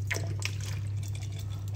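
A little alcohol poured into an empty bottle for a home remedy, a short, soft liquid trickle and a few drips over a steady low hum.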